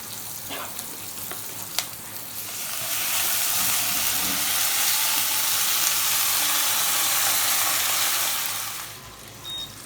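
Green chillies fry in a hot pan with oil, a loud continuous sizzle that swells after a couple of seconds and holds steady before cutting off near the end.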